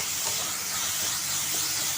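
Onion is sautéed in a pan as a continuous loud hiss of frying that fills the whole moment, with no voices over it.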